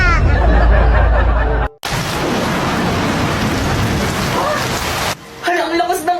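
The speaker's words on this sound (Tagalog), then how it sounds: "ang lakas ng ulan" Heavy rain pours in a steady, loud hiss that fills the space, broken by a sudden bang at the start and ending with brief voices and noises as it fades.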